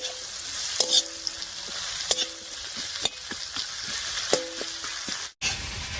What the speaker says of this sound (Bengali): আমি মাছটা সাইডে রেখে পেঁয়াজ রসুন আর লঙ্কা ভাজছি